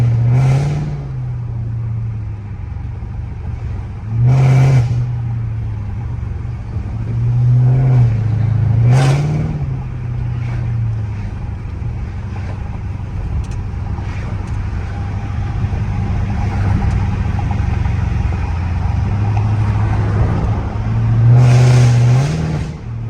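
Rebuilt AWD Dodge Charger engine revving hard in loud bursts, with sharp pops as it shoots flames, a steady low drone running between the throttle blips.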